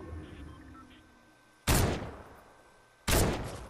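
Two loud, sharp gunshots from the Fortnite video game ring out about a second and a half apart, each with a decaying tail, over quiet game ambience.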